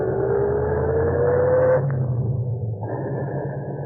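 A taxi cab engine drones and rumbles steadily as the car drives along a road, a thick close motor sound with a rising whine that shifts to a lower, rougher tone.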